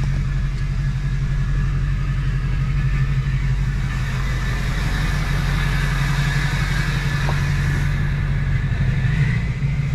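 An LBZ Duramax diesel truck engine with an upgraded 68mm turbo and only a downpipe, no exhaust, drones steadily in a low, continuous rumble while driving, without any talk.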